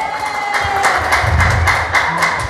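A hall audience at a final-round santri competition in Sukorejo, Situbondo breaks into steady, moderately loud applause lasting a couple of seconds.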